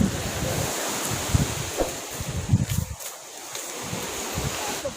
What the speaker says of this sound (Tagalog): Hangin, nindot ang hangin.